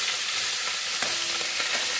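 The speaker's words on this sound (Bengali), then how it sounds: "দুটো ট্যাংরা মাছও ভেজে রাখি" Tangra fish frying in a pan, a steady loud sizzle running unbroken throughout, with a few faint clinks of stirring and no talk.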